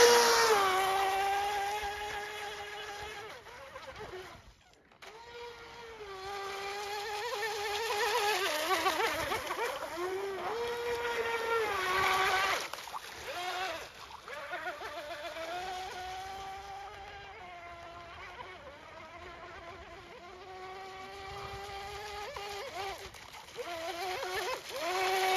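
A JetStepper propeller power system runs on water with a steady, high-pitched whining drone whose pitch rises and dips as it throttles, continuing close and loud for the full stretch, with a brief drop near the start.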